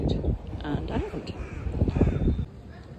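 A crow or rook cawing outdoors in Kingston, a series of harsh, close calls over wind noise, with someone talking at the same time.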